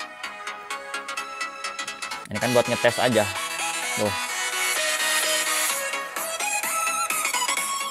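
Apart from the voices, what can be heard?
no-copyright music played through Samsung Galaxy S21 FE speaker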